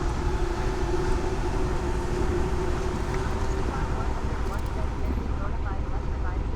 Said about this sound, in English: Double monorail action.